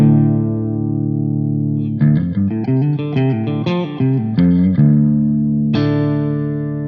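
An electric guitar with a Strat setting, its pickup digitally retuned to drop D, rings out with a sustained chord, then a run of plucked single notes and a final strummed chord, loud and close with effects colouring the tone.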